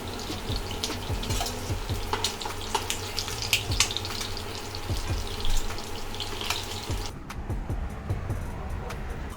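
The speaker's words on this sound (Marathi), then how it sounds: "मध्यम असे तळून घ्यायचे, एकदम करपवायचे पण नाही" Saundale fish frying in hot oil, a steady broadband sizzle and crackle with scattered pops that runs close and loud, then thins abruptly near the end as the pieces are lifted out.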